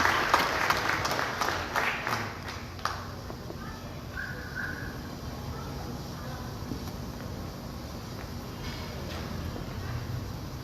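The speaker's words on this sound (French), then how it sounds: "Sous vos applaudissements, Désir Stéphania" An audience applauds at a Catholic youth pastoral gathering in Port-au-Prince, clapping strongest at the start then thinning into crowd murmur and background noise.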